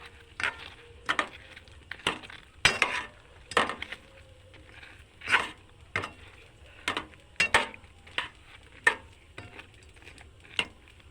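Fried rasabora fritters are turned one by one in sugar syrup in a pan, with a series of separate clinks and knocks from the utensil over a soft background, and no talking.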